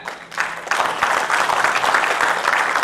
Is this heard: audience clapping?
yes